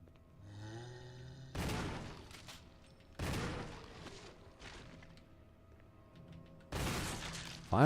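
Heavy gunshots in Resident Evil Remake land as three loud booming blasts spaced well apart, each followed by a long decaying rumble, with a faint tonal game sound before the first and another shot beginning at the very end.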